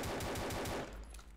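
Rapid automatic gunfire rattles in quick bursts inside a horror video game set in a haunted house, ending abruptly into a low fading tail; faint overall.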